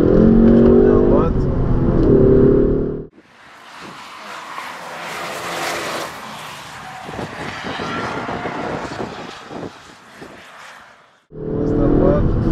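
A Ford Focus ST EcoBoost with a 2.0-litre 250 hp engine accelerates from inside the cabin, a steady mid-level engine drone with tyre and road noise, cut off at both ends by loud talk.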